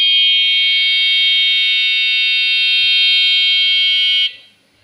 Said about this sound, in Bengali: দেখতে পাইলেন যে অ্যালার্ম এটি কিছুক্ষণ বাজলো এবং অফ হয়ে গেল